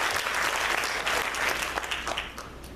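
A church congregation bursts into hearty applause for Christ, a full room of clapping hands, strong and sustained before easing slightly near the end.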